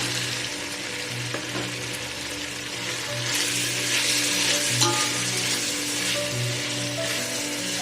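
Tomatoes fry in a pan with ginger garlic paste for a South Indian tomato rice bath: a loud, continuous sizzle close by, with occasional stirring bumps and no speech.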